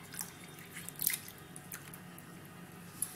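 Sliced potatoes being rinsed in a bowl of water to wash out the starch, with soft wet drips, squishes and light splashes at close range, fairly quiet and without speech.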